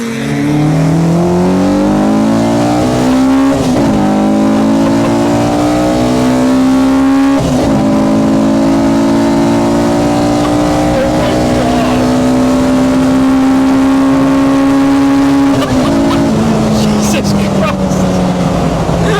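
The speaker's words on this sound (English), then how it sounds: "These cars. Whew. The revs, wow." K20-swapped Honda Civic EG hatchback revving hard on the road, its loud engine note climbing and falling through repeated surges and gear changes, close and continuous throughout.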